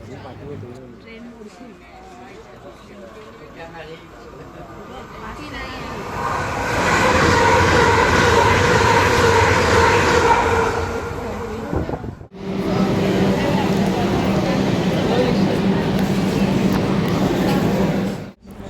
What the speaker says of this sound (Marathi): मेट्रोमध्ये आपण चढलेलो आहोत